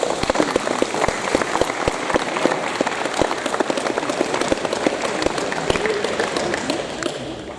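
A group claps continuously at a youth sports award ceremony, sharp overlapping hand claps forming steady applause that tapers slightly toward the end.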